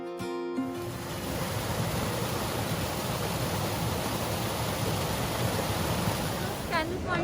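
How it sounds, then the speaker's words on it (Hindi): A small artificial waterfall in front of Scandal Point on Mall Road, Shimla, gives a steady, loud broadband rush of falling water that runs unbroken for the whole stretch after a brief opening noise. "ये एकदम स्कैंडल पॉइंट के सामने छोटा सा एक आर्टिफिशियल वाटरफॉल क्रिएट किया है"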